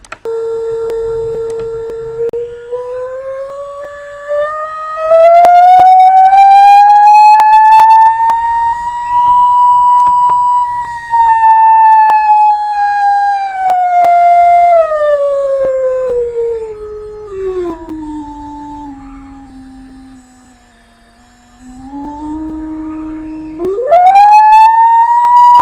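A PhET simulation tone glides smoothly up in pitch, then slowly falls back down, drops low, and jumps up again at the end. It is a loud, steady, whistle-like pure tone carrying faint overtones, with no voices.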